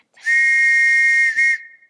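In a stage production of The Sound of Music, a ship captain blows a sharp, piercing summoning whistle. One long, steady, high tone is followed by a brief second blast, close and clear.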